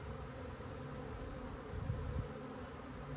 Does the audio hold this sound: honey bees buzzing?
yes